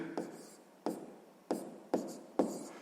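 A pen writes out a math solution by hand on paper, five distinct scratchy strokes in a regular rhythm, close and quiet.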